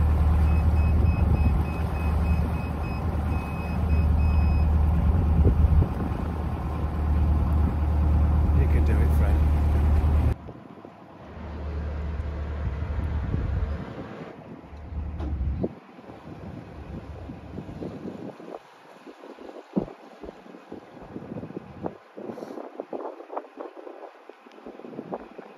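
A narrowboat bow thruster runs with a steady, loud mechanical whir and humming low drone for about ten seconds on a British canal, then cuts off, leaving wind buffeting and people talking nearby.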